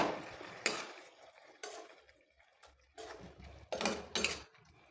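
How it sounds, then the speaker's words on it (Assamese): A spoon stirs fish and spinach in a cooking pot with a little hot water, giving several close scraping and clattering strokes in irregular bursts separated by quiet gaps. "ইয়াত মই মাছ এতিয়া দি দিলোঁ। লৰাই দিছোঁ।"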